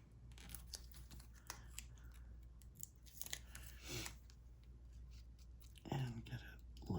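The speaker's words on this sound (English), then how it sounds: "I'll tear this one and cut it off right here" Paper being torn and snipped with scissors while making a scrapbook page, quiet close handling with a few sharp cuts and rustles, a louder crisp burst near the end.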